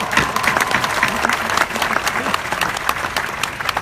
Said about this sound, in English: Real clap.